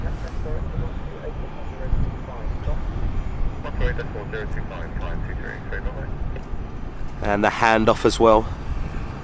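An aircraft taxiing from the private terminal at London City Airport, a steady distant engine rumble and whine with radio chatter and a voice talking over it.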